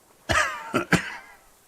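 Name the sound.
man coughing in Disco Elysium video game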